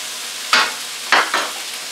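Spices, Tajin and coconut curry, dropped into a hot pan to toast for a curry, giving three short, bright sizzling scrapes close up against a quiet background.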